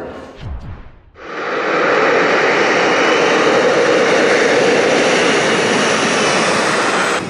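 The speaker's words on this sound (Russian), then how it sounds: "Новый украинский самолет производства государственной компании «Антонов» совершил свой дебютный рейс из Киева в Гостомель." An Antonov An-178 cargo plane's jet engines roar on its debut flight between Kyiv and Hostomel, a loud, steady, broadband rush that swells in abruptly after a brief quieter moment and then holds.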